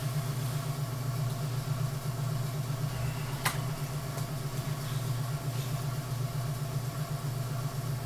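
A pottery wheel motor runs in a studio with a steady low electric hum throughout, broken only by one sharp tap.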